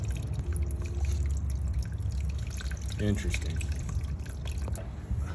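Water draining out of a Honda CBR600F4i motorcycle's cooling system, a steady trickle with scattered drips under a voice, close by.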